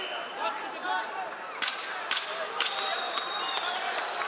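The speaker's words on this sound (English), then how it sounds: "here's the 10-second clapper" A wooden 10-second warning clapper in a UFC bout is struck in several sharp, evenly spaced cracks against steady arena crowd noise.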